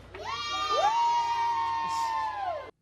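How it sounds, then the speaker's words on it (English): Children at an elementary school cheer and whoop together after a grand prize win, a loud sustained burst of high shouting voices lasting a few seconds before cutting off. "Everybody cheer."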